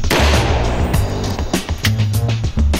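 Rapid, loud gunshots ring out close by as an armoured BMW 5 Series B4 undergoes ballistic testing with up to .44 Magnum rounds. The cracks repeat in bursts with no talk.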